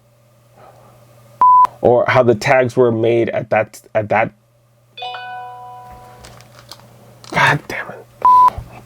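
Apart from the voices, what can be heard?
phone beeping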